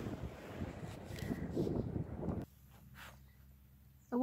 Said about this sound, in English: the wind keeps blowing over the tripod